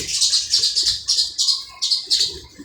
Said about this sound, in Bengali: এখন ওই যে ভয়েস দিচ্ছি তো পাখিগুলো কিচিরমিচির করছে